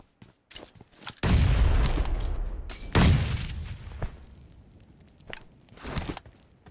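Grenade explosions in PUBG gameplay: two heavy booming blasts a couple of seconds apart, each with a long rumbling tail, followed by a few lighter thuds and footstep-like knocks.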